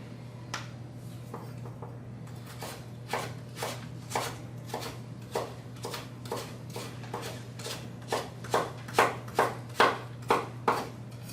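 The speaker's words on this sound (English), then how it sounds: "Turn it over, and then we'll julienne." A carrot is julienned with a knife on a cutting board, the sharp taps starting sparse and quickening into a fast, steady run of close chops over a low constant hum.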